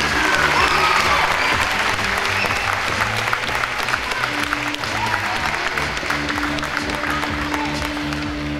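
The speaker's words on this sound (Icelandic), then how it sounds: "Skal við gefa þeim öllum gott klapp." Sustained applause fills a hall at a local sports awards ceremony honouring athletes, steady and loud throughout, with faint tonal hum and a few murmurs underneath.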